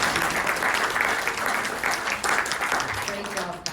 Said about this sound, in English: I think we all deserve a little applause